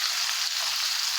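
Mutton steak frying over medium heat in a pan with rosemary, a steady, close, dense sizzle that holds evenly throughout with no talk.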